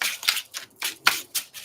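Tarot cards being shuffled by hand at close range, a series of crisp riffling bursts in an uneven rhythm with short pauses between them, no talking.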